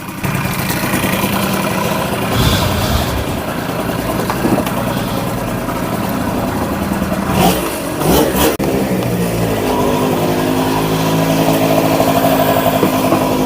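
A 1988 Honda Vision Met-in 50cc scooter on a ride, its small engine buzzing steadily and rising and falling as it revs and accelerates, with a few louder bursts and wind noise.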